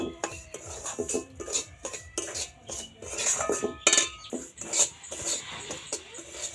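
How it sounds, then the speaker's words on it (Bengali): Semolina fried in a pan for laddu is stirred with a metal spoon, giving close, rhythmic scraping and clinking strokes against the pan, fairly quiet, with no speech. "সুজিটা কিন্তু খুব ভালো করে ভাজতে লাগবে যাতে একটু ঝরঝরে টাইপের হয়"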